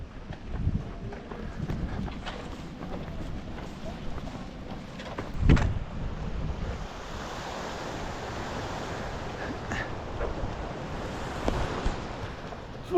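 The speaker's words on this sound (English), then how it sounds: "I'm finding it really hard to run in all this wind." Strong wind during the Nice–Cannes marathon on the seaside road roars steadily across the microphone as a constant broadband rush, with a few louder gusts and faint thuds from the runner's movement.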